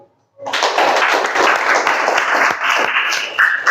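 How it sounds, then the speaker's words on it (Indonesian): A school class bursts into applause for group 7 after a brief silence, producing a loud, close, steady clatter of many hands clapping that holds until the end. "Kita beri aplaus untuk kelompok 7."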